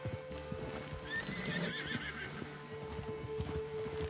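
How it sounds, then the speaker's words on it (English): A horse in Red Dead Redemption 2 trots with steady clip-clop hooves and gives a whinny midway, amid faint game ambience with no talk. "Send your horse somewhere safe. Get going, girl."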